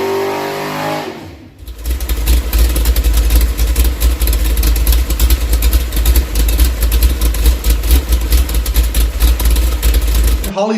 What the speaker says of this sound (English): I also have a clip of the idle if you guys are wondering what the idle sounds like.